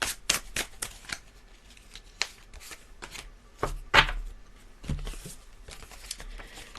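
Tarot and oracle cards being shuffled, a run of quick papery riffles and slaps with a few heavier drops as cards fall onto a surface, close and fairly quiet.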